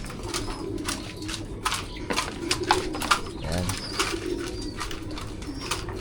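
Racing pigeons, South Flyers stock birds, coo softly inside a loft, with low repeated coos and a few chirps over steady background noise and faint rustling.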